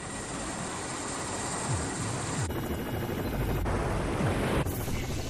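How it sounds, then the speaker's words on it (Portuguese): A helicopter hovers above rocks, its rotor and turbine a loud, constant roar with a steady chopping pulse that holds level the whole time, close by and with no voices. "o piloto mantém o helicóptero firme acima das pedras"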